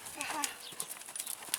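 Hooves beat quickly during a riding lesson as a horse moves into a buoyant trot, under a rider's speech and light outdoor background noise.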